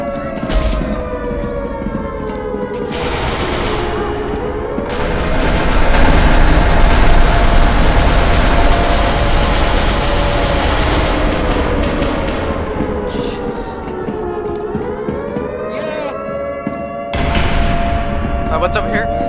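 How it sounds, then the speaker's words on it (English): Gunfire in a video game, with bursts of rapid shots under a loud, wailing alarm siren that holds steady throughout, while players talk over it. "Gunshots."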